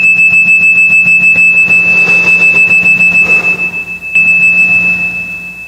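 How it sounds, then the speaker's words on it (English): A bell rung at a church service: a loud, sustained ringing tone with rapid pulsing strikes that fades, then rings again briefly near the end, with no talking. "I'm going to ring this bell"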